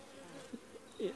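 Honeybees at a weak hive give a faint, low buzz with a few brief louder swells of bees passing close, no talking over it.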